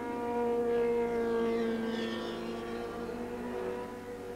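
A 1983 Formula 2 race car at Silverstone passes by with a high, whining engine note that swells and then slowly fades as it moves away.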